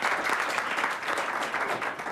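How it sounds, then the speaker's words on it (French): A group gathered at a community event applauds in a steady, moderately loud patter of many hands, continuous and even from start to end. "on applaudit très fort pour vous"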